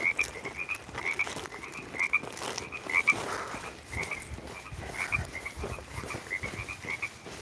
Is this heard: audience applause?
no